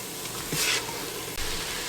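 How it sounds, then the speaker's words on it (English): Onions cooking in an Instant Pot give off a soft, steady sizzle with a few faint stirring scrapes, fairly quiet and unbroken throughout, with no one speaking. "we're just going to let this cook until the onions get a little tender"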